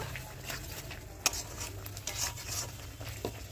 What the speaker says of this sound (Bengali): এবার কি মশলা কষাচ্ছিস? হ্যাঁ, মশলা কষাচ্ছি।